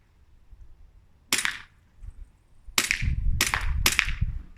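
Four crisp airsoft pistol shots snap at a vest, one alone and then three in quick succession, close and loud over a low background rumble.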